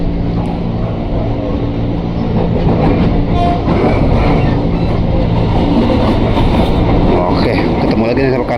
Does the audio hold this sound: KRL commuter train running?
yes